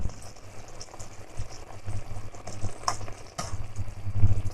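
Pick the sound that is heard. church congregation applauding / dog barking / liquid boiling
liquid boiling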